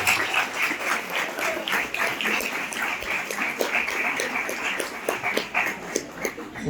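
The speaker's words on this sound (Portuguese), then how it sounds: "Uma salva de palmas." An audience at a live talk claps in a loose, uneven rhythm, with individual sharp claps standing out from a moderate, fairly close patter.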